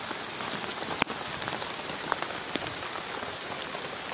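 Rain falls steadily outdoors on a goat-herding hillside as the weather suddenly turns cold, a soft even hiss of drops with a few sharper taps on nearby surfaces; no voices.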